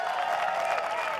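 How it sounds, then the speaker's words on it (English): A seminar audience applauds in an even, continuous wash of clapping with faint crowd murmur. It sounds fairly distant and soft. "Big round of applause for all those guys."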